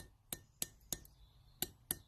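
A metal tube is tapped into place with a hammer during hand forging of a knife, five sharp, bright metallic clinks at uneven intervals, faint and close in a quiet room.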